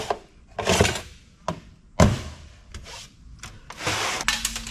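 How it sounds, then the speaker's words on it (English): Power supply units slide out of a Dell PowerEdge server being stripped for e-waste scrap, with close metallic scrapes, rubbing slides and sharp clunks at irregular intervals. "Get the power supplies out too."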